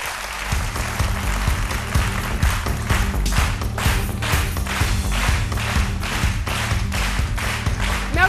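A television studio audience applauding a guest: dense, steady clapping from many hands filling the room, loud and continuous throughout with no speech over it.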